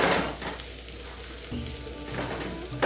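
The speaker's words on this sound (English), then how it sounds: "So now we'll put all the vegetable. We need to saute a little bit." Diced peppers and onions sautéing in a hot pan for spicy chicken tikka penne pasta, a steady close sizzle with brief louder bursts as the vegetables are stirred.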